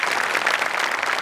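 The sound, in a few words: audience applause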